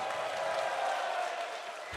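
Crowd applause and cheering fill an esports tournament arena, a dense steady wash of clapping and noise held at an even level throughout.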